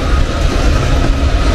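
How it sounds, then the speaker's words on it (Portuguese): A loud, steady low rumble and grinding roar from a heavy freight train with Dash9-BB locomotives using dynamic braking, dense broadband noise with no pauses throughout. "O freio dinâmico tá moendo"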